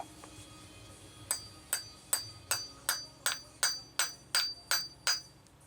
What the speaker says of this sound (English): Get our trusty hammer.